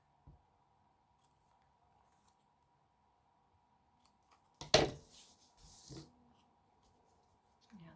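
Scissors cutting paper images from an old McCall's sewing magazine for a junk journal page, heard as a few sharp close snips and a slide of the blade in a quiet room.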